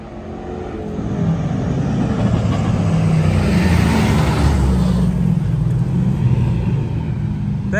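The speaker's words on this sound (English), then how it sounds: "I think they're doing a road race right now" Cars in a road race rush past one after another, among them Church's Tahoe, a loud continuous engine rumble and roar swelling through the middle and easing off slightly, with no voices.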